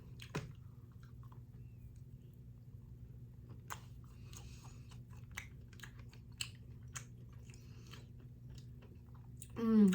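Someone chews a Godiva Gold collection chocolate close up, with soft, quiet mastication sounds over a faint steady hum.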